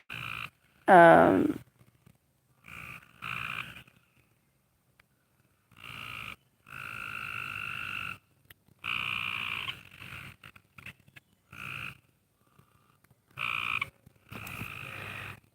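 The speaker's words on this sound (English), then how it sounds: "The frogs are active tonight," Frogs croak in repeated bursts, some long and some short, fairly close and loud against a quiet night background.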